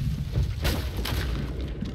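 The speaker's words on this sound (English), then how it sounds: "Fire all the cannon." Ship cannons fire in a pirate naval-battle video game, giving two or three dull booms in quick succession over a low, rumbling background.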